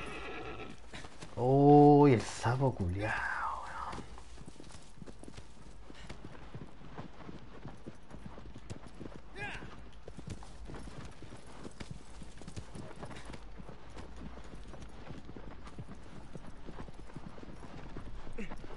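A horse lets out a loud, close whinny, then its hooves clip-clop at a steady walking rhythm for a long stretch, while someone talks now and then.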